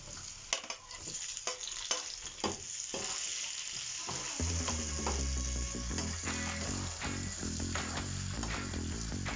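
Chopped tomato goes into a hot pan while beef kare-kare is being cooked, setting off a dense, steady sizzle and frying hiss that rises and fills out partway through, with no one speaking.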